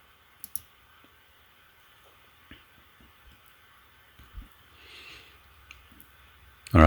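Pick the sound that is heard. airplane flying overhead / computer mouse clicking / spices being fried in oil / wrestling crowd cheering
computer mouse clicking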